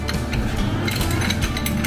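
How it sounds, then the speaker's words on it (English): A ratchet clicks rapidly and continuously on the last alternator bolt of a 2007 Honda CR-V, close and loud, a dense mechanical chatter of pawl clicks with no talk over it. "we just gotta get the last bolt out of the alternator right there"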